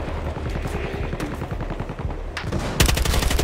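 Automatic weapon fire in Battlefield Hardline multiplayer: rapid bursts of shots crackle throughout, ending in a louder, faster burst of punchy rounds near the close, with no talk over it.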